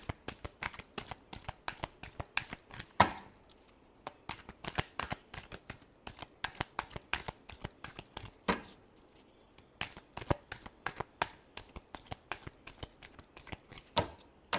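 Tarot cards being shuffled by hand, a steady run of quick, crisp riffling bursts close to the listener, with no talking.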